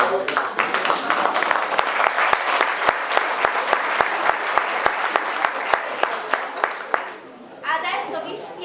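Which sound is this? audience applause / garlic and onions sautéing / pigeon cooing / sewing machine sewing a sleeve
audience applause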